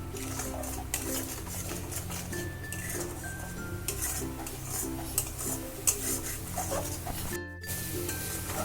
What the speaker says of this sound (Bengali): দিয়ে মশলাটাকে আমি ভালো করে কষিয়ে নেব।